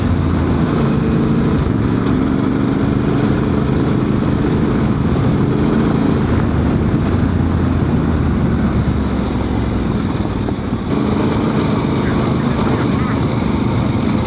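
A Honda Transalp 750 motorcycle rides a rally track, its engine roaring steadily and close throughout under heavy wind buffeting, with a brief dip near the end.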